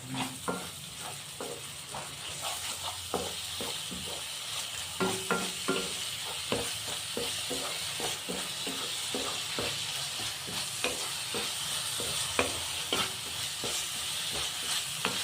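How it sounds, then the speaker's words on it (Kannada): Masala paste with fresh green peas frying in oil for vermicelli bath, a constant dense sizzle with frequent spoon scrapes and stirs, close and without talk. "ಮಸಾಲೆ ಸಹ ಒಂದು ಮೂರಿಂದ ನಾಲ್ಕು ನಿಮಿಷ ಚೆನ್ನಾಗಿ ಎಣ್ಣೆಲಿ ಫ್ರೈ ಆಗಬೇಕು"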